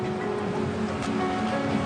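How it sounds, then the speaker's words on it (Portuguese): Sea waves break at Ericeira in a steady, dense wash of surf. The roar is continuous, with no pauses and no voices. "É o som das ondas do mar da Ericeira"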